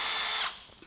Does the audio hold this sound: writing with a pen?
no